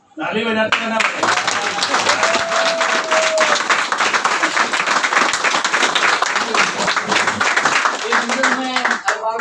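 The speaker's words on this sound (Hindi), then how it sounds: "ताली बजाते रहना पड़ेगा।" Audience applause at a Vestige business-plan seminar: dense, loud clapping that runs steadily for the whole stretch with no break, with a faint voice and a brief tone showing through partway.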